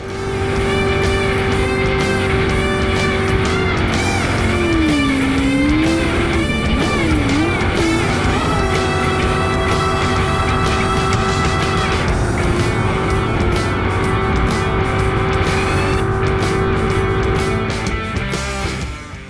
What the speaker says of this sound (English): Darren uses A-Class horsepower to pull an early lead into the first corner